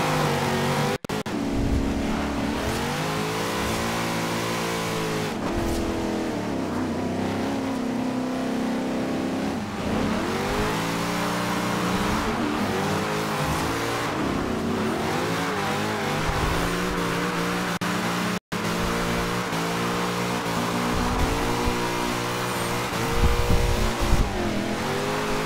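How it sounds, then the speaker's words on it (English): Video game car engine in a drifting lobby, revving hard and climbing repeatedly through the gears with rising and falling whine, tires spinning and squealing under it, loud and continuous. "I'm just spinning the tires all the way through the gears"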